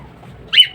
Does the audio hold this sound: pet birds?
yes